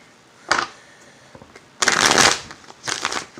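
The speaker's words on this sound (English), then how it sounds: "One more shuffle." Tarot cards shuffled by hand in several quick riffling bursts, close and crisp, separated by short pauses.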